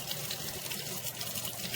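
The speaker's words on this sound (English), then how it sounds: "you can just take and lightly rinse it off" Water runs over the base of a Mulli portable blender during a light rinse, a soft continuous trickling and splashing up close with no talking.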